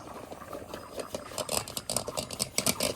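Jute leaves boiling in a pot, a steady bubbling patter with soft liquid gurgles and rising bursts of bubbling, close and moderately loud.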